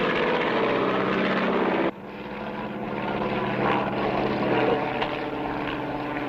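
Propeller aircraft circling overhead to gain altitude, a loud continuous engine drone that briefly cuts down partway through and then builds again with a steady buzzing pulse.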